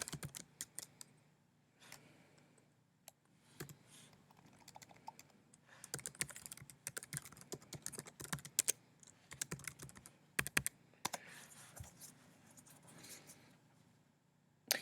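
Someone types an email address and password on a computer keyboard, quiet close keystrokes in irregular bursts with brief pauses, plus a few sharper clicks.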